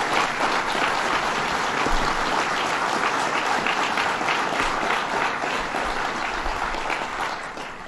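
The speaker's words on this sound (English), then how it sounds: "Let's give them a round of applause." An audience at a Citizen Preparedness Corps training event in Oneida applauds, a dense, steady wash of many hands clapping that stays loud throughout before easing slightly at the end.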